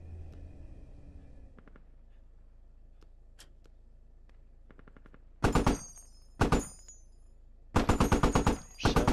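Automatic gunfire in a squad-based video game rips out in loud bursts near the end, three separate volleys with short gaps, after a stretch of low vehicle rumble and a few faint clicks.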